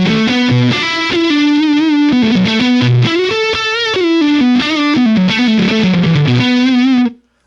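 Distorted electric guitar lead lines through a Helix modeler's Marshall JCM800 amp model, loud and sustained with bends and a melodic phrase, playing alone and ending abruptly near seven seconds.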